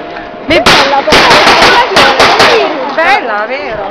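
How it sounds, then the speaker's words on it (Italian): Sharp gunshot-like bangs ring out in quick succession at an outdoor wedding salute for the bride and groom, loud and close, with excited voices shouting and talking between and over the blasts. "Ma è un saluto agli sposi in pratica. Sì, lo sparo."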